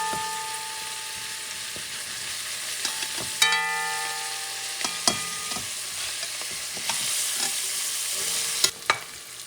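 Sliced sausage with dry oregano caramelizes in a pan under a steady sizzle, with a few clinks and scrapes as it is stirred and a sharp knock now and then.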